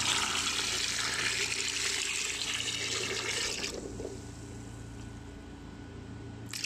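Boiled salted water gushes steadily from a container over eggs for salting, a dense close pour lasting a few seconds before dropping to a quieter trickle.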